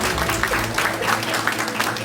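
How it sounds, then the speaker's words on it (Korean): Sustained audience applause at a ceremony where a bouquet of flowers is being presented, a steady dense wash of clapping that runs unbroken from start to finish with no pauses. "큰 박수 부탁드리겠습니다"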